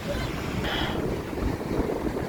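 Steady wind buffeting the microphone outdoors at a fish market in Ghana, a constant broad rush with a faint higher tone briefly rising near the start.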